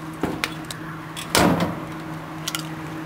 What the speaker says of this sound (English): now let me close the door